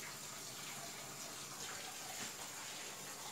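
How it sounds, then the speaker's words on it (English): Water runs steadily from a kitchen tap during cooking, a constant soft hissing gush that holds at an even, fairly quiet level throughout with no talk over it. "Let's cut this water off."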